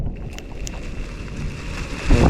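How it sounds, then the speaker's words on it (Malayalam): Strong wind roars steadily outdoors at a viewpoint 4,026 feet above sea level, with broadband rushing noise, buffeting the microphone and swelling louder at the end. "നല്ല രീതിയിൽ കാറ്റടിക്കുന്നുണ്ട്"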